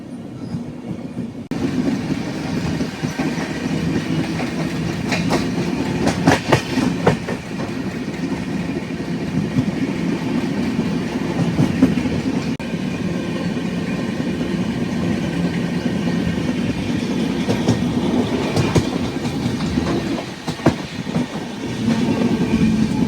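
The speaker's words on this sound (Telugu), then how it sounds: "ప్రస్తుతం లింగంపల్లి దాటింది మన ట్రైన్" Aboard the Rayalaseema Superfast Express travelling past Lingampally toward Begumpet, a steady loud rumble of carriages on rails continues with intermittent clickety-clack rhythms and occasional rattles throughout.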